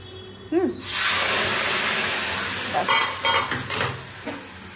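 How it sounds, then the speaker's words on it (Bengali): Spices tempering in hot oil burst into a loud, hissing sizzle as an ingredient is poured in, the roar easing slightly over a few seconds while utensil clinks and stirring scrapes break through. "ফোড়নটা যখন চড়বড়িয়ে উঠবে, মানে পুরো ছিটিয়ে যাবে, তারপরে এই জিনিসটা দিয়ে দেবো"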